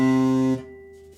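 A short sustained reference tone from a Lava Me 3 guitar's ear-training mode, a clean electronic pitch that holds for about half a second, then drops to a faint lingering hum.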